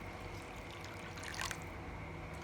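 Water poured from a bowl into a simmering Chhattisgarhi fish curry with amaranth greens, a soft steady liquid trickle and splash lasting a couple of seconds, close and fairly quiet, with no talk over it.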